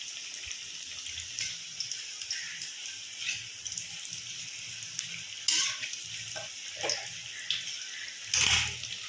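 Kochu bora fritters fry in hot oil with a steady, close crackling sizzle, broken by occasional brief pops and splashes.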